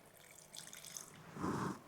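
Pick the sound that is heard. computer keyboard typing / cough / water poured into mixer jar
water poured into mixer jar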